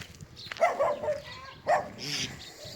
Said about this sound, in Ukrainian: Та нехай гавкає.